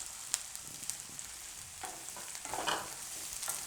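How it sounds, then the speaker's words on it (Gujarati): Chopped onion and capsicum fry in a pan for a Gujarati vegetable dish, making a faint sizzle with light scraping and stirring sounds near the pan. "હવે એમાં આપણે કેપ્સિકમ નાખીશું."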